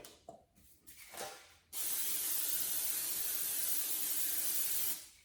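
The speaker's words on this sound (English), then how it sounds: "So I'm going to go ahead and spray my pan with my pan." Cooking spray hissing onto a baking pan for banana bread, preceded by a few soft handling clicks and rustles, then one steady close aerosol hiss lasting about three seconds before cutting off.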